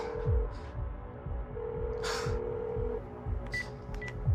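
Telephone dialing tones from a phone being called, a steady sequence of beeps and a held tone, with a low throbbing music bed underneath.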